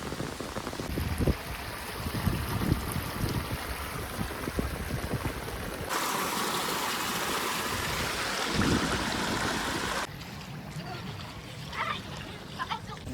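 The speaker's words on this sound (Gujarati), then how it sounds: "ઉછળધાર વરસાદ પડે ઉછળધાર વરસાદ વરસાદ અંબા થાય કેવું પાણી હાલી જાય અવાજ આવે" Heavy monsoon rain pours down while floodwater rushes past a river, making a dense, continuous roar of splashing and flowing water that shifts in tone over time, with a voice faintly underneath.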